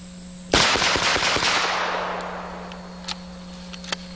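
A MECTEC jungle gun (460s) fires a rapid burst of about a dozen loud, close shots outdoors, each report ringing into a long decaying echo, followed by a few faint distant pops.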